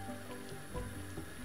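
Homemade jerk chicken sauce bubbling in a pot after ten minutes of boiling, a soft, steady simmering sizzle, faint and close, with no talking.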